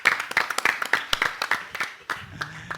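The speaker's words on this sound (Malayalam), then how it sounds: "2 ടീം വിജയിച്ചത് പ്രഖ്യാപിച്ച് 2 ടീമിന് കൈയടി" Scattered hand claps from an audience greet the winning team at a fan meet roast event in Kochi. Sharp, uneven claps ring out closely for a few seconds, with a voice speaking near the end.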